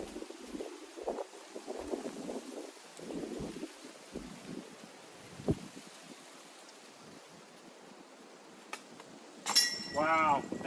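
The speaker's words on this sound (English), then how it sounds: "this wind is kind of insane today" Strong gusty wind buffeting the microphone on an outdoor disc golf course, coming in uneven rumbling bursts in the first half, with a voice speaking partway through and a sharp chain clink near the end.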